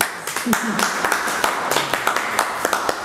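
An audience claps in scattered, irregular bursts, a thin patter of applause that carries on under a voice.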